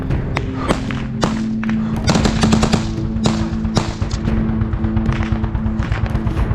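Heavy gunfire, bursts of rapid shots and sharp cracks mixed with dull thuds, continuing steadily over a low background hum.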